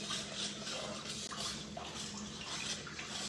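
Salt stirred into room-temperature filtered water for garlic focaccia dough, a steady swishing, sloshing churn close by, continuous with no talk.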